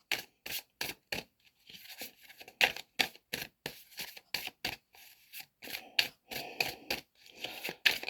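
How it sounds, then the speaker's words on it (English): Playing cards being shuffled up close: a steady series of short, crisp riffling bursts with brief pauses between them. "So I'm just going to put it back and carry on shuffling."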